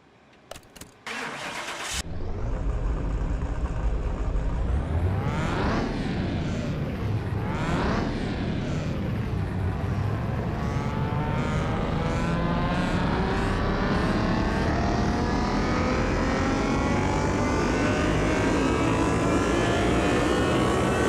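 A salvaged Nissan GTR engine on a dyno fires up after a brief crank, then roars loudly and steadily, revving up and down before a long sustained high-rpm pull, with no talking.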